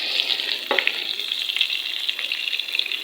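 Onion, green chilli and garlic tempering sizzle steadily in hot ghee for a dal, a close, continuous crackling fry with a brief stir or clatter near the start.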